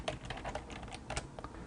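Computer keyboard typing during accounting software data entry, with a quick run of close, light key clicks that includes presses of the Tab key.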